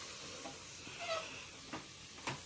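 Rice and spices frying in a pan for methi bath, a steady low sizzle with a few soft scraping stirs standing out, heard close and alone.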